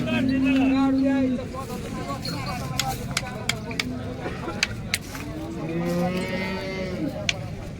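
Cows moo several times, long low calls at the start and near the end, among people talking and sharp clicks in a busy cattle market at Modnimb.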